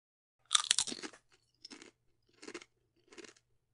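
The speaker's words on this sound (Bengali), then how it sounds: "আমি আপেল খাচ্ছি" Someone eats an apple, with a loud crisp bite followed by three shorter crunchy chews, close and alone in a quiet room.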